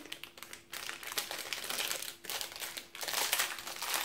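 A snack package crinkles and crackles as it is pulled open, loud and close, in dense bursts with short pauses and no voices.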